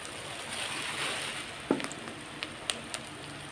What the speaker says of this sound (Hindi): अब हम मसाले को भून लेंगे।